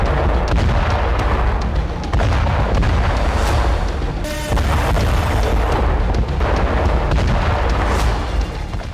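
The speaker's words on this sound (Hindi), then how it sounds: "ईरान की गैस पाइपलाइन पर कुछ इस तरह से विस्फोट हुआ।" Loud, continuous booming roar of a gas pipeline explosion in Iran, rumbling and crackling with repeated heavy bursts, dense and unbroken from start to end.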